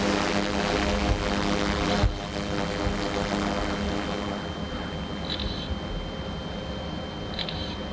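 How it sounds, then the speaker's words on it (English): Aircraft engine drone, likely a survey plane flying over Chinook salmon spawning grounds, heard as a steady, loud, continuous hum throughout with no talk. "Aircraft heading to the start."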